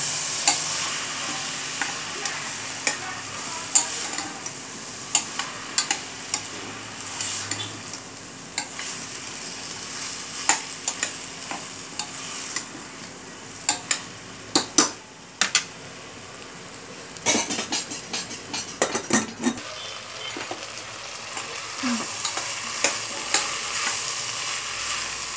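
Cauliflower sautéed in a pan for pav bhaji gives a soft, continuous sizzle, broken by frequent sharp clinks and scrapes of a spatula against the pan at irregular intervals.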